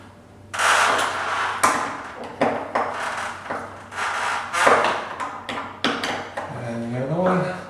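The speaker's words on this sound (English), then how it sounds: "you can tighten everything up nice and tight" Metal tools clank and knock in a string of sharp, close, irregular hits while bolts are tightened on a replacement hydraulic 316 RAL door closer during installation.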